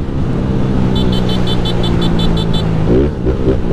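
A Honda Fan 160 motorcycle engine with a strange fault runs close and loud, a steady idle with a quick regular ticking pulse over it before the engine note shifts near the end.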